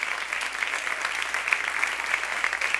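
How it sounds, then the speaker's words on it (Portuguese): Applause from a church congregation during a worship service fills the space with steady, dense clapping at moderate volume and no voices. "Você pode aplaudir ao Senhor."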